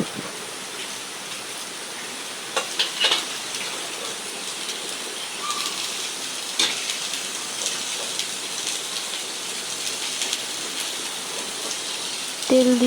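Onions sizzle in hot oil in a wok as taro leaves are cooked, a steady, moderately close hiss and crackle with a few sharper pops and a brief voice near the end.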